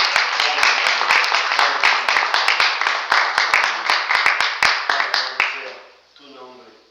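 A church congregation applauds during a worship service, a dense wash of many hands clapping loudly with sharp strikes standing out, fading away near the end as a voice begins speaking.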